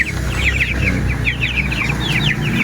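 Chicks and hens in a small crowded coop peep in quick, high repeated chirps over a steady layer of low clucking, all close and continuous.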